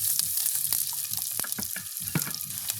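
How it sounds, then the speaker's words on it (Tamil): Chopped onions and green chilies fry in hot oil in a pan, a steady close sizzle with sharp crackles and pops breaking through, no voices. "வெட்டி வச்சுக்கிற வெங்காயத்தை போடுவோம் அதோட வெட்டி வச்சுக்கிற மிளகாயையும் போடுவோம்"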